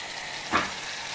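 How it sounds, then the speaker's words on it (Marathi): Wet paste of roasted fresh and dry coconut, onion, ginger and garlic hitting a hot pan over a raised flame, a steady broadband sizzle with one brief louder burst midway, close and alone without talk. "गॅसची फ्लेम थोडीशी फास्ट करते वाटप घालत आहे"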